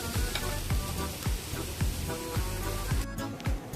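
Steady sizzling of carrots frying in oil in a pan, with a continuous crackle and rhythmic scraping strokes as the contents are stirred.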